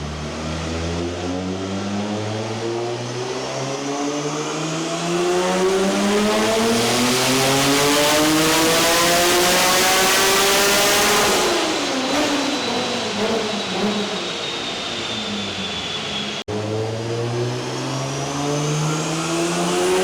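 A professional Formula Drift car's engine revs hard on a dyno, climbing steadily in pitch to a loud sustained peak, then dropping and rising again. The roar is close and continuous, with no talking.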